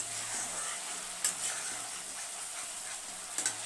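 Mustard-poppy masala paste cooks briefly in a pan, a quiet steady sizzle with a couple of faint spoon clinks against the metal.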